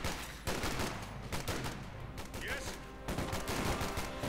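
Rapid bursts of rifle and machine-gun fire from a Company of Heroes 2 1v1 battle crackle through the whole stretch, with a commentator's voice running underneath.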